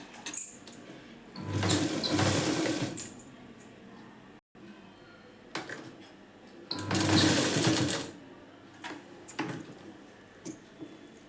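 Sewing machine stitching lined blouse fabric, running in two sustained bursts of motor whir and needle clatter with quiet handling sounds between; no speech.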